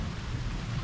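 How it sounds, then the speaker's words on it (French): Thunderstorm over Liège, Belgium, with heavy electrical activity: a steady, loud wash of rain and low rumbling thunder, continuous without breaks and no voices. "Un orage un peu plus convenable."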